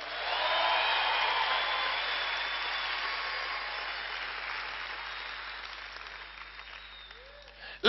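Applause from a church conference audience at a teaching by a prophet, a broad steady wash of hands clapping that starts strong and slowly thins out, with faint voices underneath.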